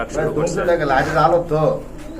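Pigeons cooing at close range, soft rolling throaty coos heard together with someone talking over them.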